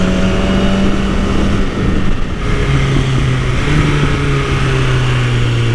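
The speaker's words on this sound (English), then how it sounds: "Man, those downshifts are so clean." A Yamaha R1 motorcycle engine, loud and close, drops through downshifts with a brief dip partway through before the revs settle into a steady, strong drone.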